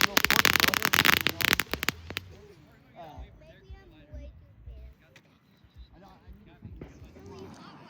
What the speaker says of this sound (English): We're lighting fireworks.